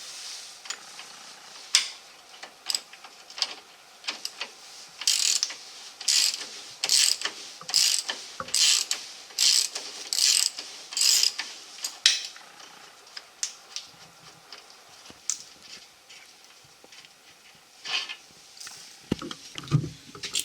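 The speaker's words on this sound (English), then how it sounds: "we're going to remove the rear shock. We're using a 21 millimeter socket and wrench" A hand ratchet driving a 21 mm socket while removing the rear shock from a GMC Sierra, clicking in quick uneven runs of close, bright ticks with brief pauses between strokes, with no voices.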